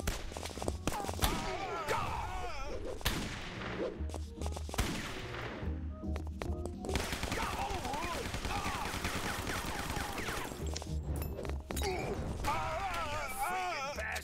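A grenade goes off amid bursts of gunfire in the video game Guns, Gore & Cannoli, with sharp cracks and rattling shots throughout while a player talks over the action.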